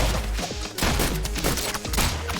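Video game gunfire in an icy map, rapid bursts of shots and impacts crowding together over dense game music and effects, loud and continuous with no pauses.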